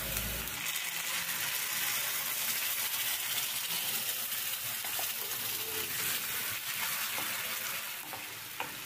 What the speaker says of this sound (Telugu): టమాటా పేస్ట్ కూడా బాగా ఫ్రై అవ్వాలి.